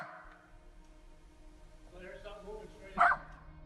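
A dog barks once, short and sharp, out in the woods, over a low steady background drone with faint indistinct sounds before it.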